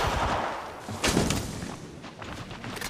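Gunfire in Apex Legends Mobile crackles in a few quick bursts with a sharp mid-clip shot, fairly faint and diffuse in a busy firefight, with no clear talk.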